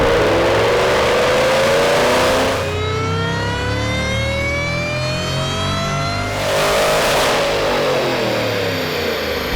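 A 2011 Shelby GT500 Mustang, a rare glass-roof car, roars on a dyno, its engine note climbing steadily in pitch through a sustained, loud full-throttle pull, then easing off near the end, with no talking.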